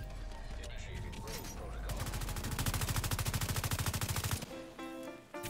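Rapid automatic gunfire in a Dark Zone video game shootout, a steady burst of evenly spaced shots lasting a few seconds, with other game sounds before and after it.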